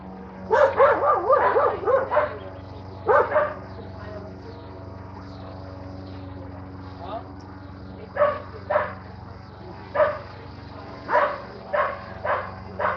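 A dog barks in several short bursts, some close and loud, others more spaced out, over a steady low hum in an indoor room during a 1995 medieval-themed party.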